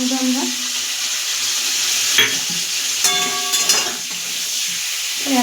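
Prawns with tomatoes fry in a pan, giving a steady bright sizzle throughout, broken by a few brief stirring scrapes and clinks, close and fairly loud with no talking.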